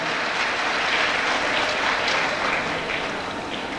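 Steady, dense applause from an audience at a graduation ceremony fills the space, loud and continuous with no voices over it.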